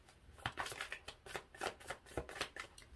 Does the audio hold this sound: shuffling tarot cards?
yes